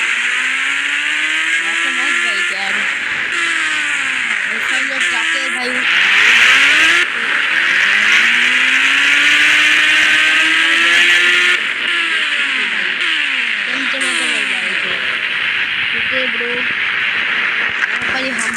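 Bike engine revving and accelerating in an Indian 3D driving video game, with rising and falling whines and loud, steady engine drone throughout, and someone talking over it.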